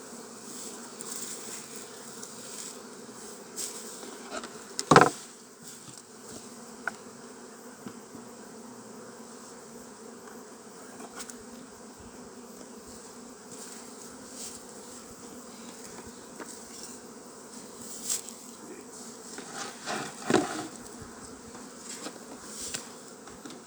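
Honey bees buzz steadily around an opened beehive, a dense, continuous hum at moderate volume with a few brief knocks and clatters as the hive boxes are handled.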